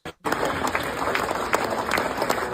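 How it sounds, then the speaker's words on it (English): Crowd in an airport concourse applauding, a dense continuous patter of many hands clapping at close to moderate distance, steady throughout after a brief gap at the start. "Everybody's clapping in this video."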